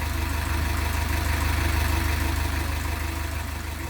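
Canal boat engine cruising past on a towpath waterway, a steady low rumbling chug that stays fairly loud and even throughout, with no voices.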